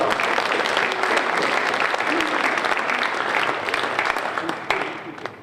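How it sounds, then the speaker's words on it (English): Sustained applause from an audience at an American Legion fall conference in Florida, a dense, steady wash of clapping that lasts throughout, with some murmuring voices mixed in. "I appreciate you giving a round of applause"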